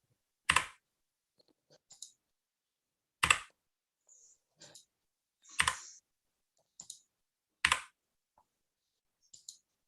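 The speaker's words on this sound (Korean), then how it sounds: "필요 없는 거는 딜리트 키 눌러서 그냥 과감하게 없애주세요" Several sharp single key presses on a computer keyboard, the delete key tapped in a spaced rhythm with quieter light clicks between, close and crisp in an otherwise quiet room.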